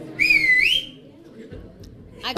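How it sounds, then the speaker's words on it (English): A single bright whistle glides up and down for under a second, followed by quiet background noise and a brief sound at the end. "I've just deputized the captain's daughter to whistle"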